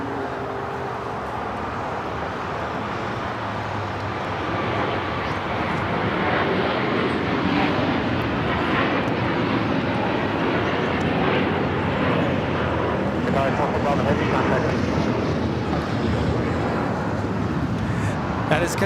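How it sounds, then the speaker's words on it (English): Qatar Airways Airbus A350-1000 taking off from Los Angeles airport, a continuous broadband jet roar that swells and holds steady, heard at a distance throughout. "That is Qatar Airways, flight 740, taking off to Doha on the A350 1000."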